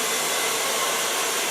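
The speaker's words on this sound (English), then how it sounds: "first I start with blow drying his hair" A hair dryer blows a man's hair dry at a salon, a loud, steady, close whoosh of air that holds without change for the whole moment, with no voices.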